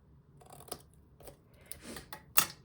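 Scissors snip paper at an angle while a simple paper box is assembled, giving several short, crisp close cuts spaced irregularly in a quiet room.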